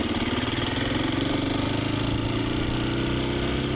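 Husqvarna FE350S dirt bike engine running steadily and loud throughout during slow right-hand U-turns, a continuous thumping single-cylinder drone with slight pitch rises as the throttle shifts.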